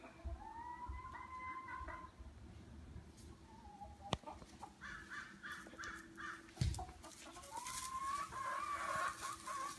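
Chickens clucking close by in a coop, with repeated rising calls and squawks spread over several seconds, alongside a sharp knock and some background rustle.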